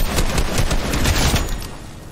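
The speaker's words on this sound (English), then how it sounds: "We're going to shoot an enemy bot grenade" Gunfire in the Fortnite video game as a player shoots an enemy bot. A rapid, loud burst of automatic shots plays alone, close up, then tails off.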